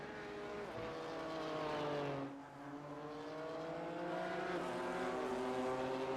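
Simulated NASCAR Cup race car engines roar in the iRacing game at Chicagoland, 2007 Cup Series setting: loud, steady, high-pitched droning with rising and falling pitch as cars pass, a brief dip midway, and no talking.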